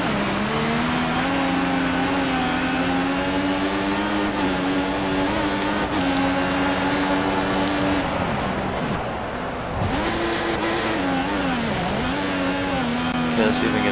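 An F1 car engine from the video game F1 2014 revs through the gears, a continuous high buzzing drone that rises and dips in pitch over a long run, loud and unbroken.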